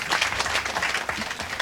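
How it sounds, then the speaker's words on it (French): A conference audience applauds a woman, a loud, continuous patter of many hands clapping together, with no talk breaking through. "Donc vos applaudissements pour elle"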